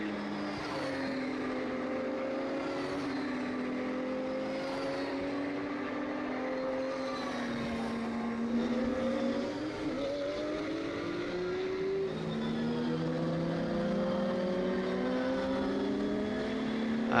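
Touring race cars on a warm-up lap at the DeWALT Grand Prix Baltic Touring Car Championship drone steadily past, several engines layered and rising and falling in pitch, heard from a moderate distance.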